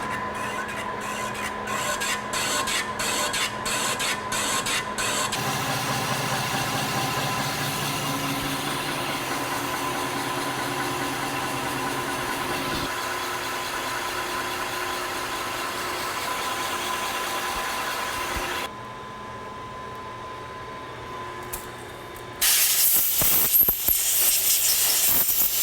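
A Lion lathe running at 80 RPM in a workshop, a steady loud mechanical drone with a rhythmic ticking at the start, shifting in tone partway through and ending in a harsher, louder grinding noise.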